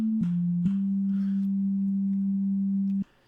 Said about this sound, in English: And a basic sine wave, like in every other synthesizer, it sounds like this.